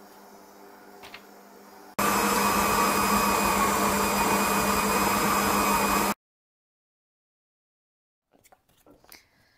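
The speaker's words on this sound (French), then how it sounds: "Pétris le tout pendant 8 minutes en vitesse 1," A stand mixer kneads Norwegian bread dough at low speed, its motor a loud, steady whirring hum that starts abruptly, runs for about four seconds and cuts off, followed by silence and a few faint knocks.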